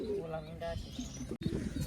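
Pigeons coo softly nearby while a person talks over them, with a brief dropout partway through.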